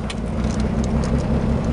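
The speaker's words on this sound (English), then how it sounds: "Drop her in drive and" A Chevrolet Monza pulling away, a steady low engine hum and road rumble held at even loudness, with no voices.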